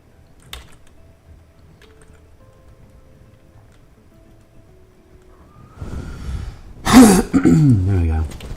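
A man clears his throat and gives a harsh, wet cough, loud and close, after several seconds of near silence with faint taps.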